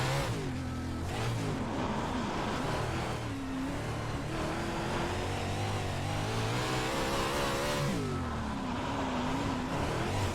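Dirt race cars at the Kern County dirt track in the iRacing video game roar continuously, engines rising and falling in pitch as they rev through the turns, with no talking.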